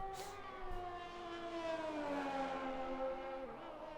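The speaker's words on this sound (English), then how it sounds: "Apologies if you can hear the loud train going past." A loud train passing just outside a window, a long sustained tonal horn-like drone with shifting pitch that swells and holds for several seconds, near and prominent.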